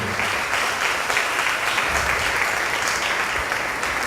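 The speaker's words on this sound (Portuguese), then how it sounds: "Eu queria pedir a você que desse outro aplauso ao Senhor pela vida de Raimundo aqui hoje." Continuous, full applause fills a church congregation, a dense wash of many hands clapping at a steady loudness throughout, with no voices standing out.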